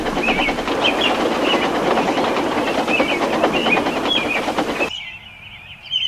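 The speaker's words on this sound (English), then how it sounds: "he watches the trains rushing through the new tunnel" A train rushes through a tunnel loudly with a steady rushing roar and rhythmic clatter, then cuts abruptly to quieter ambience near the end.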